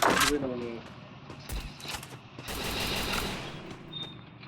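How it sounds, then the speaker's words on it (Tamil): Sniper gunfire in the Free Fire battle-royale video game: sharp shots and bursty gunfire effects come in and out, mixed with other game sounds, with a player's voice talking over them. "ஏதோ ஸ்னைப்பர் வச்சு தட்டி தடவி ஒரு டவுனை போட்டேன்"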